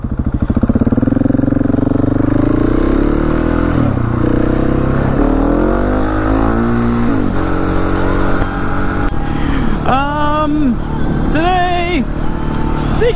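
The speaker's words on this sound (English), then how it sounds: "Actually got a couple pops out of this exhaust," A loud KTM 701 motorcycle engine runs rough and revs in cold winter air just above freezing, with a few sharp exhaust pops crackling through near the end.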